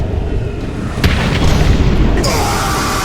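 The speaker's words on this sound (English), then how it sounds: "when Batman performs a takedown, it sounds like a nuclear explosion" Heavy, booming impact from a Batman takedown in a Batman Arkham video game, a loud explosion-like thud about one second in over a dense rumbling game mix, with another swell near two seconds.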